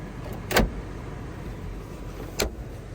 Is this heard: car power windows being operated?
yes